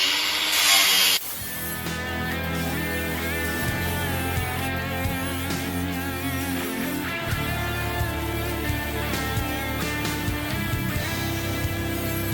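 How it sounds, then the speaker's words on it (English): An angle grinder fitted with a stainless wire brush whirs steadily as it scrubs stainless steel welds on a fuel tank, a sustained high whine with a brief sharper hiss at the start, close and loud with no talk. "Got me a stainless brush for my grinder, so I'm gonna run the stainless brush along all these welds right here"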